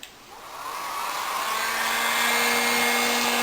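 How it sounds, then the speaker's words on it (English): Heat gun blowing hot air onto a heat-shrink spark plug boot protector on a GM 350 small-block Chevy, a steady loud close whoosh with a faint tonal whine, rising slightly and holding without talk. "Take your heat gun."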